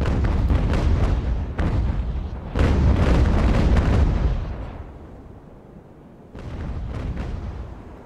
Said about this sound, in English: Oh, those guns are beautiful.